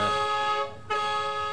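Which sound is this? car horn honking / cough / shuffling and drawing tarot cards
car horn honking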